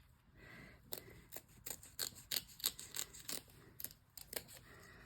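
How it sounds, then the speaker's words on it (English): Scissors give a quick series of sharp, close snips as they trim a rough spot on a fabric zip bag, irregular clicks with brief pauses between them, against a quiet background. "I'm gonna snip that"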